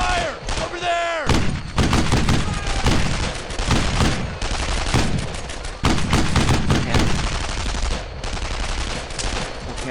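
Suppressing gunfire rattles through a World War II battle in the game Brothers in Arms, dense bursts of rifle and machine-gun shots cracking loudly and repeatedly with heavy thuds, while a voice shouts over the din.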